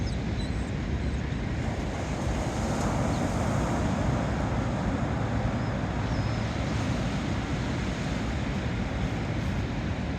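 Ocean waves break at Seal Beach in a continuous, fairly faint wash of surf with steady wind noise across the microphone, and no voices.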